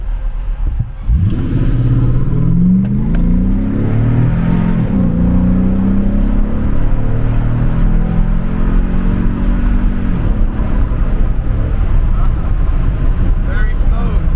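Toyota Tundra V8 revving in race mode with a Shiftpower throttle response controller, loud engine sweeps rising and falling for several seconds, then holding a steady drone, with people talking over it.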